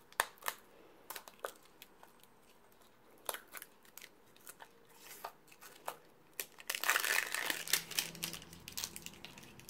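Packing paper crinkles and crunches during the unpacking of an AliExpress parcel, with sparse sharp rustles building to a louder, dense burst of crumpling near the end, close by with no talk.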